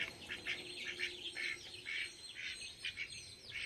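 A flock of ducks quacking and calling in a busy, overlapping chorus, fairly close, with bursts of higher honking calls throughout.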